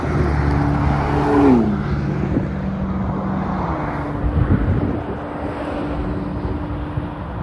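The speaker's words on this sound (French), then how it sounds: "Ah, encore un MP4 12C orange cette fois, sublime." An orange McLaren MP4-12C passes on the A28 motorway. Its engine tone rises and sweeps by near and loud over steady road noise, then fades under continuing traffic rumble.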